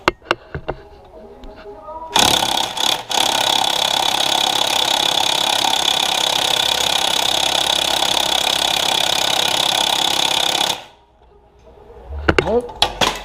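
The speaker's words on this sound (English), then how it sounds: "I'm hoping now my impact wrench might break that loose" A pneumatic or electric impact wrench on an EZGO golf cart tries to break loose a seized starter-generator bolt, giving a loud, steady hammering burst of about nine seconds that stops abruptly, followed by quiet clatter.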